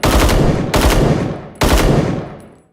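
Type 56 rifle in the Rising Storm 2 video game firing three loud full-auto bursts back to back on a practice range, each a dense rapid clatter of shots with ringing decay.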